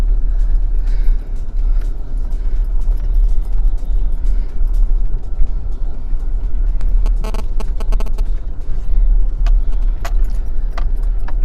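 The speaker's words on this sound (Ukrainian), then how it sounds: "з зайвих звуків це трахкання ключів. Трик-трик-трик-трик" Keys jangling and rattling continuously inside a moving Audi A6 (C4) 2.5 TDi, with a low diesel engine rumble underneath and bursts of sharper metallic clinks.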